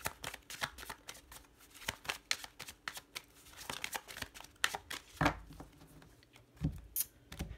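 Tarot cards are shuffled by hand at close range, with a continuous run of soft riffling, slapping and sliding card sounds and a few louder flicks, and no talking.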